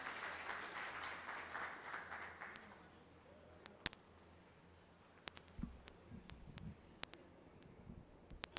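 Applause from an audience at a social work symposium fills the opening seconds, dense and steady, then fades into quiet room noise with a few sharp clicks and knocks.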